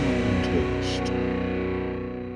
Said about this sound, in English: let's go ahead and get into the rhythm tone test